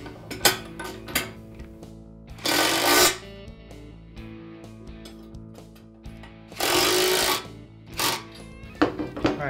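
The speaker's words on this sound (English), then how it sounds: "We'll go ahead and we'll get these things tightened down using our wrench" A wrench and socket tighten lock nuts while a scrape blade is assembled, giving bursts of metallic clicking and ratcheting with a few louder rasping runs, close by and with no talk.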